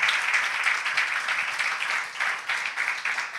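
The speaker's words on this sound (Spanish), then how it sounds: "vamos a recibir con un fuerte aplauso" A crowd's applause fills the room, dense sustained clapping from an audience that swells and eases slightly without pause throughout.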